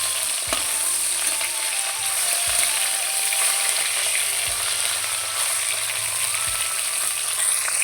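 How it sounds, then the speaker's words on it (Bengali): Fish fries in a pan with a steady, close crackling sizzle that runs throughout, broken by a few soft low knocks of the spatula or pan at regular intervals, with no talk. "মাছগুলো এক পিঠ ভাজা হয়ে গেছে,"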